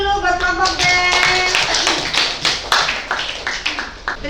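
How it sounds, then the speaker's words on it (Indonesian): A classroom group claps together in a burst of quick, bright applause, loud and close, thinning out toward the end, while a voice speaks briefly at the start. "tepuk tangan dulu buat kelompok B"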